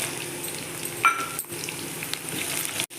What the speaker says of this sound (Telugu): ఇలా కలుపుకొని బాగా వేయించుకోవాలి.